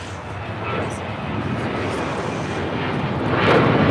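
An airliner taxiing at LAX gives a steady, broad engine roar that holds close and loud throughout and swells slightly near the end, with faint voices underneath.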